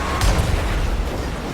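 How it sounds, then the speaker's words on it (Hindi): A loud blast goes off behind a car on a highway in GTA 5, a heavy low boom that lands early and leaves a rumbling noisy tail fading over the next second, with no voices. "पीछे कुछ तो ब्लास्ट हुआ"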